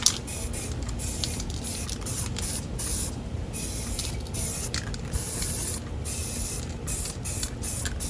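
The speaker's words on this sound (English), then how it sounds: "See how I'm spraying from up high?" Spray paint hissing from an aerosol can onto a mirror being upcycled, held up high, in steady bursts with short pauses between them, fairly close and loud, with no talking.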